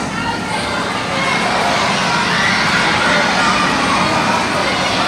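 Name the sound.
audience yelling out trivia guesses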